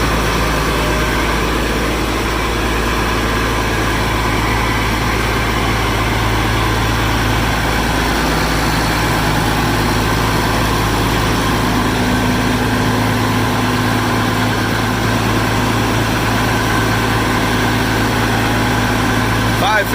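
A Massey Ferguson 550 combine engine, which has an oil pan problem, idles steadily with a low, even rumble that holds constant throughout.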